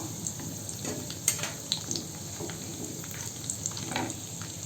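Chana dal, urad dal and dried red chilies frying in hot oil in a pan, a steady crackling sizzle with occasional clicks and scrapes of stirring, close and continuous with no talking.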